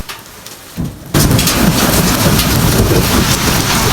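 After a quiet opening with faint patter, a thunderstorm with heavy rain, wind and falling hail bursts in, a loud dense roar of rain close by continuing to the end.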